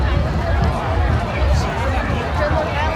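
Dense crowd hubbub at a Chinese Dragon Boat Festival, a steady mass of overlapping voices and bustle filling the whole stretch at close range.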